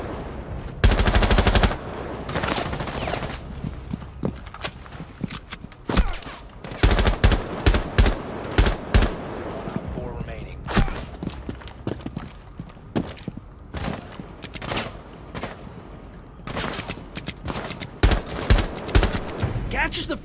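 Gunfire in a Rainbow Six Siege gunfight: repeated sharp bursts and single shots scattered across the stretch, some loud and close, with a commentator's voice running underneath.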